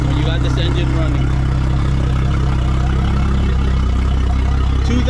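A 2022 Yamaha F300XSB2 outboard engine runs during its 20-hour service, a steady, loud, close drone with an even rumble and no change in pace throughout.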